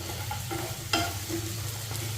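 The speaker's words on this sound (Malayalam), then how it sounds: "നമുക്കൊന്ന് ഇളക്കി കൊടുക്കാം." Fried prawns being stirred with spices in a frying pan, a steady low sizzle with soft scraping strokes of the spoon, one sharper clack near the middle, close and without talk.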